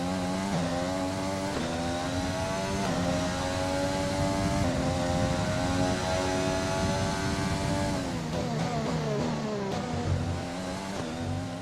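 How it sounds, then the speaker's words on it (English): A Formula 1 car engine in the racing game F1 2020, a steady high-pitched whine with stacked harmonics that rises and falls through gear changes, loud and continuous with no talk. "I'm gonna let you guys listen to the engine sounds of our car,"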